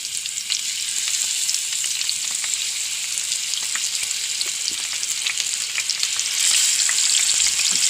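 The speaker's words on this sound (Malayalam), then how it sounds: "അത് മീനെ വറുക്കാനുള്ള മീനിടണം." Steady, loud sizzling of fish frying in hot oil with curry leaves, a dense crackling hiss with scattered pops throughout and no voices.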